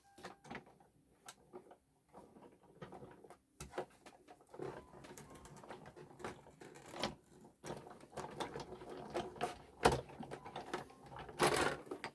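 A piece of card is fed through a Sizzix Big Shot die-cutting machine to cut a stitched pattern. It makes a scattered series of close clicks, taps and ratcheting knocks, with irregular sharp snaps across the clip.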